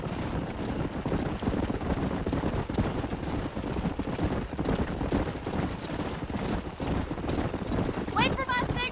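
Horses galloping in the video game Red Dead Redemption, a dense, continuous run of hoofbeats throughout, with a brief neigh near the end and no talk over it.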